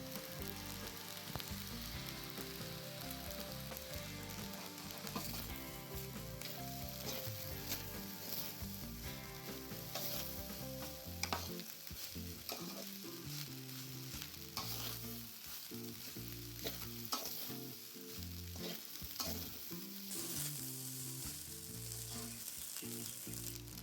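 Veg pulao is stirred in a pot, giving a quiet, continuous sizzle and scraping with occasional stirring clicks over a low, tonal background hum.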